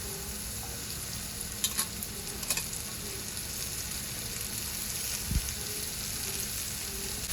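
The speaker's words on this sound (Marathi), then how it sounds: "यावर आपण कांद्याची पात घालूया" Spring onion greens stir-fried with red chili powder, salt and turmeric in a pan, a soft steady sizzle with a few light clinks of a stirring spoon, quiet and without talk.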